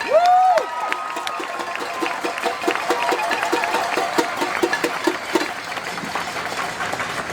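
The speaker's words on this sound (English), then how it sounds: "we should give ourselves a round of applause." An audience gathered for a speech gives a round of applause and cheers, with rhythmic clapping and scattered voices around it, while a brief tonal whoop rises at the start.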